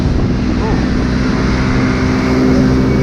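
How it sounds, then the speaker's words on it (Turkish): A motorcycle engine drones steadily at close range, with wind rushing over it the whole time. "ben şu an motosiklet sürüyorum"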